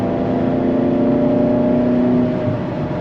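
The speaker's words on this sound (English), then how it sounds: "This car made in Maranello, the acceleration is absolute perfection." A Ferrari sports car from Maranello accelerates with a high, strained engine note, loud and close, holding a steady rising whine for most of the stretch before easing off near the end.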